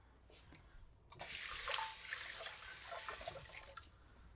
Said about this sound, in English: I will rinse these hands one more time.